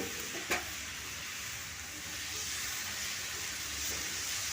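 A jaggery mixture fries in a pan with a steady, faint hiss and sizzle, broken by a soft stirring scrape near the start and another toward the end.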